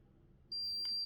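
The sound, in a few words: Kinetik Wellbeing smart thermometer beeping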